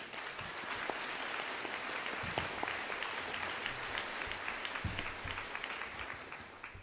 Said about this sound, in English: I thought it'd be nice if we give them a nice little round of applause